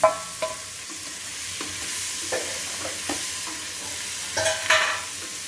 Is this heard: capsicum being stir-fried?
yes